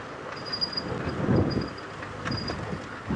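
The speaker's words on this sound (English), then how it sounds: "I keep driving over this caked clay and it goes sounds like lightning overhead." A safari vehicle rolls over caked clay at dusk, making a low, broad thunder-like rumble that swells and eases over a few seconds amid faint outdoor background noise.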